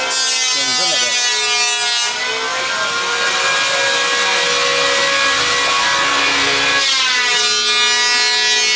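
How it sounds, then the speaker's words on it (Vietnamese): Continuous loud whine of a power saw cutting ebony wood, pitch shifting as it bites, with workshop noise throughout and voices talking underneath. "đang quay ở trong xưởng cho nên nó hơi ồn ào một tí"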